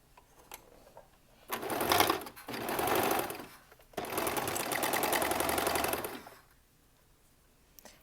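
A standard sewing machine runs a straight stitch in two close bursts of rapid, steady mechanical whirring, separated by a short pause, with quiet before and after.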